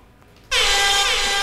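An air horn sound effect blares suddenly after a quiet moment and holds as one loud, sustained blast to the end.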